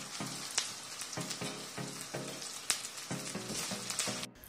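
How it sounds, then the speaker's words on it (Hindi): Ginger-garlic paste sizzles and fries steadily in a pan, with a run of sharp stirring scrapes and clicks across the crackle, close and fairly loud, no voices. "अदरक लहसुन का पेस्ट भूंज गया है।"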